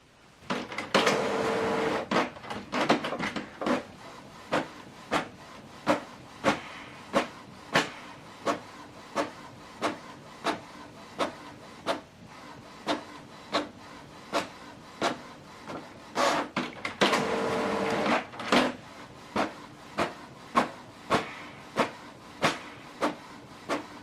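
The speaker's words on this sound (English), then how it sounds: "So I printed single page." A Canon PIXMA TS7750i printer printing a document, with a steady run of sharp mechanical clicks and ticks under a soft whirring motor hiss and two louder bursts of paper feeding, all close and without talk.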